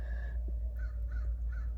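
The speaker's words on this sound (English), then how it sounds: "And the crow is agreeing." A crow caws three times in a steady rhythm, moderately distant, over a constant low rumble of background noise.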